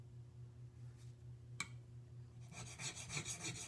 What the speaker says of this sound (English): move the chisel back and forth until I can feel a burr, an even burr across the back